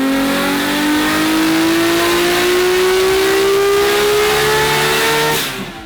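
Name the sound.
Nissan R32 GT-R revving on a dyno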